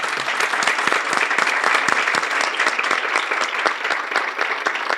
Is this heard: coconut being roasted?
no